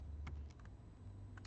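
A few faint, quick keystrokes tap on a computer keyboard during a CSS coding challenge, scattered in short bursts over a quiet background.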